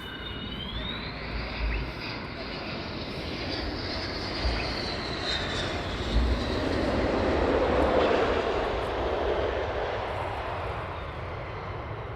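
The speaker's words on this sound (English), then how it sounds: "we've got some more now taxiing down towards the EOR" Military jets taxi at RAF Lakenheath, a loud continuous engine roar and whine that swells slightly midway and holds steady, heard from nearby with no talking.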